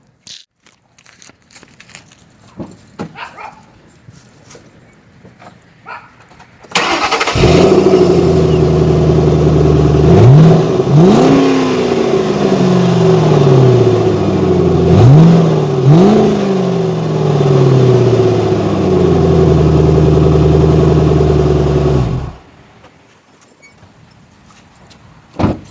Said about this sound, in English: Let me give you some exhaust clips from a stock exhaust.